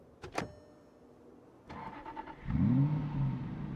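In Project Zomboid, two quick clicks, then a starter motor cranks in a rapid rattle as a hotwired car engine catches and revs up, settling into a steady idle.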